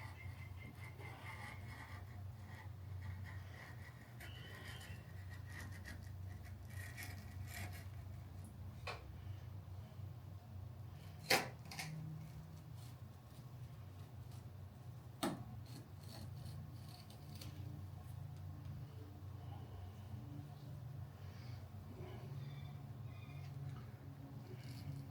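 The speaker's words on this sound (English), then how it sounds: "I'm going to use this blade to cut in here and remove the excess" A blade cutting through and trimming excess material during reassembly work on a Jaguar MKII gives a steady, soft rasping over a low background hum, broken by two brief sharp clicks.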